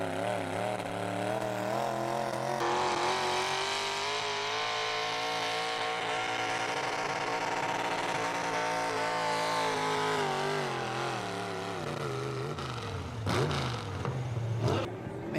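Jim Matthews' Plum Crazy pulling truck roars through a pull run at a truck and tractor pull, a loud sustained engine howl that rises and falls in pitch, with a sharp burst and sputter near the end.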